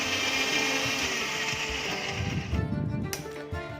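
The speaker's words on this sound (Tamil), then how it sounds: "நம்ம மிக்சியில் ஒரு ஓட்டி எடுத்துக்கலாம்" A kitchen mixer grinder whirs continuously as it blends onion, tomato, garlic, chili powder and salt, a loud steady grinding drone that eases off slightly near the end.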